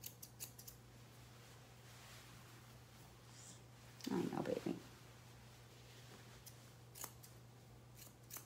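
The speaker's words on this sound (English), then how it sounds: "Take my thinning shears and come up under here and bulk out some of this beard" Thinning shears snip in a quick cluster of close, soft cuts while trimming the beard of a Kerry Blue Terrier, set against a quiet room hum with a few faint clicks before and after.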